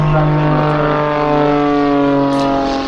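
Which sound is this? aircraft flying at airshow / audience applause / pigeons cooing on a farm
aircraft flying at airshow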